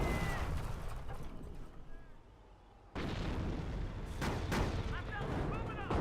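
Calliope rocket artillery thunders through a Company of Heroes battle: heavy, continuous blasts and rumbling impacts that ease off briefly, then surge back loud and dense, while a commentator talks over the action.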